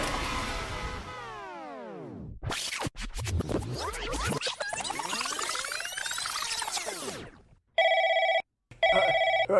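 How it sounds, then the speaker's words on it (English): After a stretch of sweeping, scratchy electronic noise, a telephone rings twice in short, loud, evenly spaced bursts with a clear, tonal, buzzing ring. "Ring, Stacy's phone."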